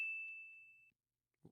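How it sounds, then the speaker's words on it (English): A single bell ding rings out clearly on a radio morning show set, a sustained pure tone fading over about a second, followed by a brief soft thump. "We got a bell."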